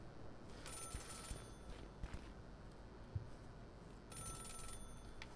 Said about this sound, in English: Is that the phone?